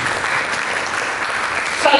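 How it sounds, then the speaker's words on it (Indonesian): A church congregation in an Indonesian service claps together, a steady wash of applause lasting a couple of seconds at moderate volume. "Berikan tepuk tangan bagi Yesus."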